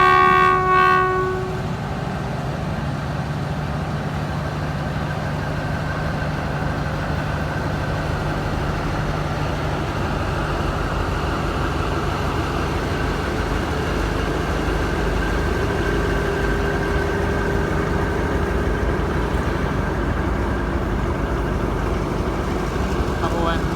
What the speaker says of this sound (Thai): 726 นะครับขบวนบรรทุก คอนเทนเนอร์นะครับ เขตท่าม่วงนะครับ ตอนนี้เริ่มออกตัวแล้วนะครับ